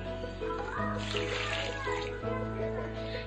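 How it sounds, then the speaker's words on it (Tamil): Coconut milk pours into a pot of rice with chicken, a splashing liquid rush rising mid-clip over a steady tonal kitchen hum. "இப்போ நம்ம தேங்காய் பால் அளவு ஆட் பண்ணிக்கலாம்"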